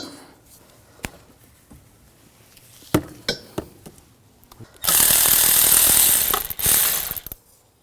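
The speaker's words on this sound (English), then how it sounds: "Using a 18mm wrench, 18mm socket, we're going to loosen this up." Ratchet with an 18mm socket loosening an upper engine mount bolt on a 2001-2009 Volvo S60: a few sharp clicks, then a loud, dense burst of rapid ratcheting for about three seconds, close up.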